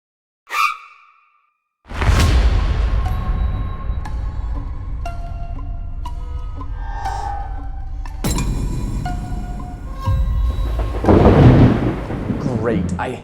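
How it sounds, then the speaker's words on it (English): A thunderstorm at night: a short sharp crack, then a heavy rolling boom of thunder that rumbles on, swelling again into a second loud peal with rain-like wash underneath. "I hate storms at night."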